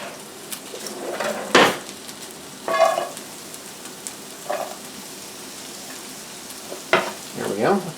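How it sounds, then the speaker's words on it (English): Onions hitting a pan of potatoes already frying, a few sharp bursts of sizzle and clatter rising over a steady low crackle, close and moderately loud, no talking. "let's get our onions in now."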